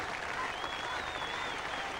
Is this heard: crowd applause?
yes